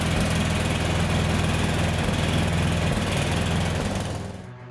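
A small engine runs in winter while warming up on choke, a loud, steady, rough chugging drone close by that holds for several seconds before fading out at the end.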